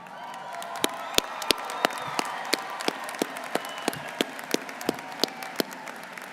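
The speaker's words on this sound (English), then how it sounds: "So grads, I appreciate that round of applause, but I think we can do better than that." Graduates at a university commencement applaud their families, a steady wash of clapping from a large crowd with sharp individual claps punching through, sustained throughout.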